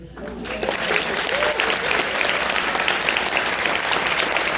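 A crowd at the Sundance world premiere of the film All Dirt Roads Taste of Salt breaks into steady, full applause for the cast, starting under a brief voice and continuing as an even wash of clapping.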